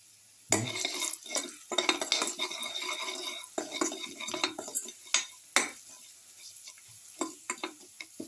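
A spoon stirs half a spoonful of mixed spices around a pot on the stove, giving repeated scraping and clinking strokes over a light sizzle, close and fairly quiet, with no voices.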